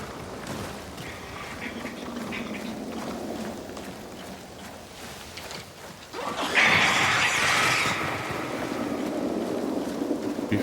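Birds in a video game quack and call over a steady bed of wind and ambient game noise, swelling louder partway through, with no talking.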